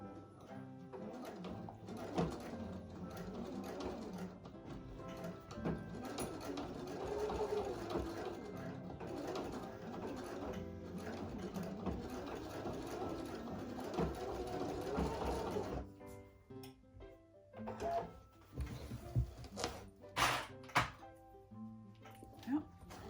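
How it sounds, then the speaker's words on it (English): A sewing machine runs in steady bursts as it restitches the center seam of a fabric art pouch, its hum carrying on under a voice before giving way to a few separate knocks and short runs near the end. "just stitch that center portion again, just to ensure everything is where it should be and that the seam is nice and secure"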